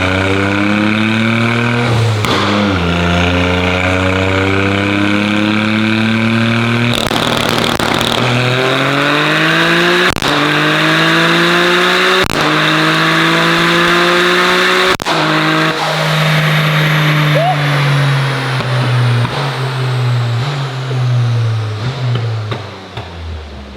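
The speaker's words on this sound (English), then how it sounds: "Rolling anti-lag, I assume he's gonna do like rolling in second gear and then shift to third and then fourth probably." A 500HP Toyota GR Corolla running rolling anti-lag roars hard through its gears, each pull rising in pitch, broken by sharp pops and crackles at the shifts, very loud and close throughout.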